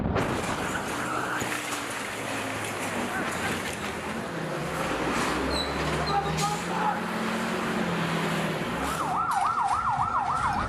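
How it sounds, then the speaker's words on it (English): A wailing ambulance siren sounds at night in Jabalia, Gaza, its rising-and-falling tone emerging clearly near the end over a dense, constant wash of ambient noise and distant traffic. "One of countless ambulance calls overnight in Gaza."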